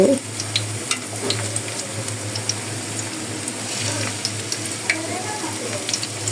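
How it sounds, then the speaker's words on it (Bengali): Shrimp fritters fry in oil with a continuous close sizzle and scattered pops, over a low steady hum. "এই চিংড়ি মাছের বড়াটা কিন্তু খুবই মজা তো এইভাবে সম্পূর্ণই দিয়ে তারপরে ভেজে নিব"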